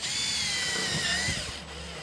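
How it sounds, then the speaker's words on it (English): A power drill drives tech screws into insulated metal clad panels on a garden room build, making a loud, close, continuous whirring drone that dips slightly as the screw seats. "I'm then going to get the tech screws, and remember the key with these tech screws is not to send them in all the way"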